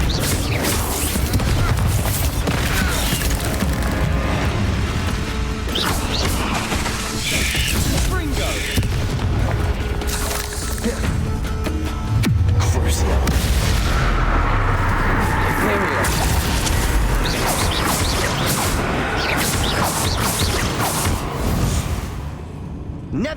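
Combat spells such as Bombarda, Crucible and Arresto Momentum fire in Hogwarts Legacy's Dark Arts mode on Nintendo Switch, a dense, continuous barrage of booms, blasts and crashes with game music, loud throughout, while a voice calls out spell names.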